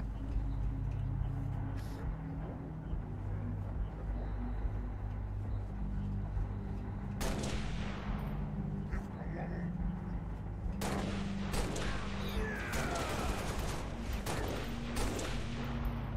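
Gunfire in the Halo: Reach video game, a low rumbling battle bed with clusters of sharp shots and heavier blasts bunched in the latter half, moderately loud under faint voices.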